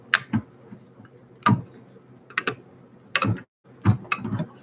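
Crankshaft turning in tight bearings inside a rat case engine, giving close irregular mechanical clicks and ratchety ticks in small clusters separated by brief quiet gaps.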